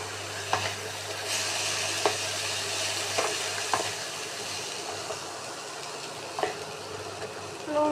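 Garlic sauce pasta ingredients fry in a pan, giving a steady close sizzle with a few sharp clicks and scrapes as they are stirred. No voices are heard.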